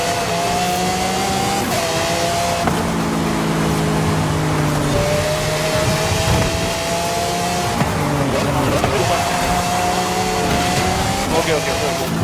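Cars race in the Forza Horizon video game with loud, continuous engine drone, rising and falling revs and tire squeals throughout, while players talk over the game sound.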